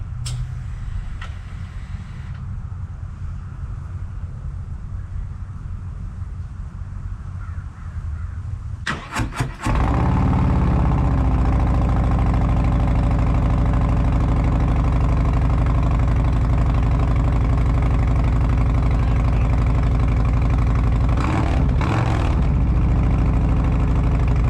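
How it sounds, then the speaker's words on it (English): A 2024 Harley-Davidson Road Glide with TAB Performance exhaust cold-starts after about nine seconds of quiet outdoor background with crows cawing, then settles into a loud, deep, steady idle close by that carries on to the end. "here we go for a cold start."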